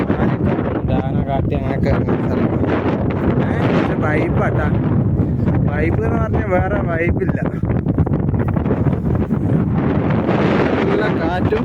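Cold wind buffets the microphone on the summit of Kalvari Mount in the Idukki hills near Munnar, a steady low rushing roar that runs under continuous close talking.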